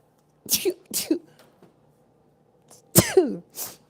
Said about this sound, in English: Ooh, I'm about to sneeze because of that.